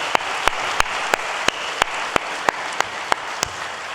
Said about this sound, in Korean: 우리 청년들 이번에는 장년분들께 박수로 사랑의 마음을 전하겠습니다